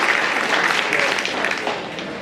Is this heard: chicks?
no